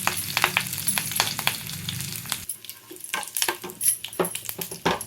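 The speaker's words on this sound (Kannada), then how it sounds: "ಈಗ ಬಾಣಲಿ ಇಟ್ಬಿಟ್ಟು ಸ್ವಲ್ಪ ಸಾಸಿವೆ, ಸ್ವಲ್ಪ ಕರಿಬೇವು" Mustard seeds and curry leaves fry in a hot pan with a busy crackling sizzle, and sharp pops and spoon taps follow after a short drop in level.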